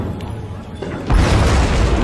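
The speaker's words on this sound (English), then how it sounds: "In comes the meteor." A meteor strikes the city in SimCity, a loud, deep boom that erupts about halfway through and rolls on as a heavy rumbling blast after a quieter lead-in.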